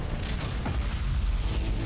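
Explosions in the Battlefleet Gothic Armada 2 video game rumble loudly and continuously, a deep booming roar with overlapping blasts and no speech.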